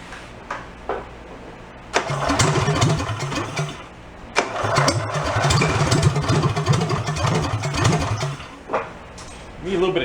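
Big engine on an amusement-park go-kart running without a muffler, loud and raw with repeated throttle bursts that rise and fall across the clip, a brief start-up sputter early on, with voices talking in the background.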